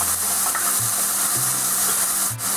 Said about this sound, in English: I've added the oil to the pan, and now I'm going to add the onions